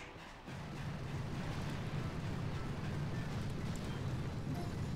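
Explosive barrage rumbling in the Boom Beach mobile strategy game, a dense, continuous roar of blasts that swells in and holds steady at a loud level throughout.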